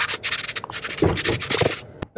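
Stainless steel plates, 304 and 316 grades, rubbed and polished by feet aboard a steel motor yacht, giving close, continuous scuffing and sanding-like friction strokes that end abruptly with a small knock.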